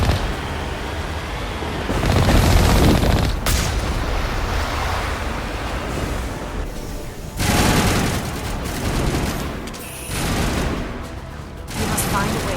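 Heavy, sustained artillery and weapons fire from the sci-fi game Mass Effect: Legendary Edition roars in dense, overlapping bursts and booms, loud and continuous with brief lulls between volleys.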